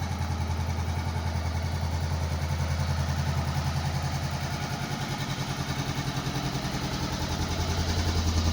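A 2018 Honda CB 500F motorcycle engine idles steadily nearby, a low, even chugging putter that holds its rhythm without revving.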